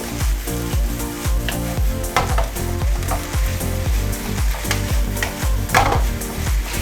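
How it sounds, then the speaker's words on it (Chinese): Beef is stir-fried over high heat in a wok, giving a loud, dense sizzle with quick, repeated scrapes of the spatula and metal clatter throughout. "牛肉下，开始翻炒它。 这个时候全程大火。"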